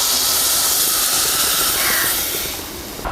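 Coconut milk poured into a hot mackerel curry, giving a loud, steady hiss and steam that holds throughout, easing slightly near the end, with no talk.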